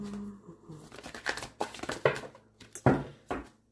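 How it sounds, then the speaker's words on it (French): An Osho Zen Tarot card deck being shuffled by hand, giving a string of close crisp riffles and papery slaps in quick irregular bursts, with no voice over them. "avec le Oshozen Tarot, mais je vais juste le brasser un peu pour changer les énergies"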